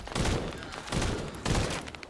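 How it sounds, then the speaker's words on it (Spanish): Rapid bursts of automatic weapon fire from a gun in the sci-fi shooter The First Descendant, three loud clusters of shots with short gaps between them, no talking. "Hay espacio entre las ráfagas, pero vamos, disparo lo más rápido que puede."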